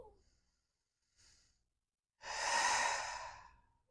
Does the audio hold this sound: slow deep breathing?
yes